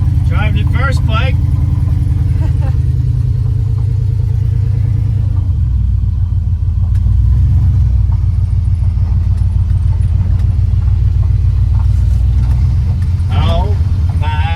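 A lowrider car's engine rumbles steadily while it drives, a low, close, continuous drone with a brief rev, as people talk over it.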